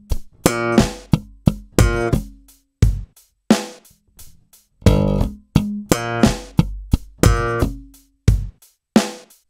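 Slap bass guitar in a stomp-style lick, two sections joined and played faster, with sharp percussive slaps and muted thumps in a steady, driving rhythm, solo and close.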